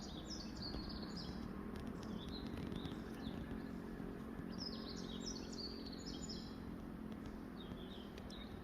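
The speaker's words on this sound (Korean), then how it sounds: "지저귀는 산새들 소리" Faint mountain songbirds chirping in short repeated phrases in a forest, some distance away, over a steady low rumble of background noise; no talking.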